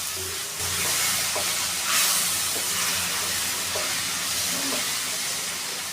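Masala with red chili powder fries in a pan, giving a steady hissing sizzle with a few soft clinks from stirring, alone and fairly close.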